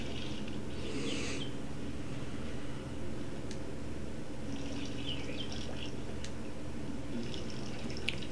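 Water trickles and drips in the video game Hokko Life, a soft steady flow with occasional light splashes and faint bird chirps over a low ambient background, no talk.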